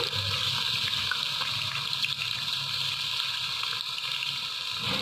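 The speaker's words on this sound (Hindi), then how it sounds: "आप भी चिकन ध्यान से डालिएगा, छींटे पड़ेंगे।" Chicken pieces dropped into hot oil for an aloo shimla mirch chicken dish, a steady loud sizzle and splatter that hisses continuously without pause.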